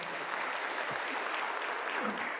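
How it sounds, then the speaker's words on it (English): An audience at a university media and communication research conference applauds a speaker, a short steady burst of clapping that fills the room evenly. "let's give him a clap"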